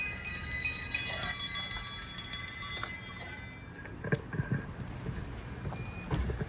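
A bell rings out with bright sustained metallic overtones that ring loudly for about three seconds, then fade, leaving scattered softer knocks and faint background noise.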